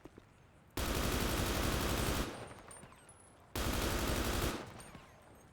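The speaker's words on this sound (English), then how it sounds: "Where are they shooting from?" Two loud, rapid bursts of automatic gunfire, each lasting over a second, are separated by a brief quieter gap with faint background noise.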